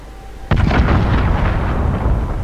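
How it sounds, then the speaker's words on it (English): A cruise missile detonates in Call of Duty: Modern Warfare, an abrupt heavy boom followed by a long rumbling roar that slowly fades, loud and alone. "Cruise missile away."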